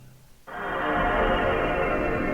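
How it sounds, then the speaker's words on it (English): A PlayStation 2 Red Screen of Death error tone kicks in abruptly after a brief quiet moment, then holds as a steady, loud, droning buzz to the end. "the Red Screen of Death comes with an unnerving sound"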